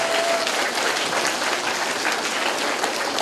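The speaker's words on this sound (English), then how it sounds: "Would you give a big hand to Mrs. Cindy Hicks for volunteering to be here?" Big hand for a volunteer from a school assembly crowd during Music In Our Schools Week, a thick, continuous wash of clapping from many people, loud and steady throughout.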